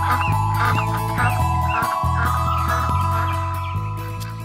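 A goose honks in a storybook tale, repeated calls at a steady rhythm over a sustained low musical drone, loud and close with no talking.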